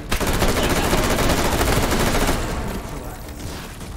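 Assault rifle fire in a modded Take & Hold video game, a loud continuous rapid burst that cuts off and leaves a fading tail.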